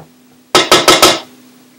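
A utensil clanks against a bowl four times in quick succession, loud and close, while a date nut truffle mixture is being stirred.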